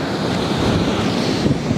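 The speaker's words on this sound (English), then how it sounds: "It's windy, huh?" Strong wind at a beach buffets the microphone in a loud, rushing roar, with surf-like noise underneath and no voices.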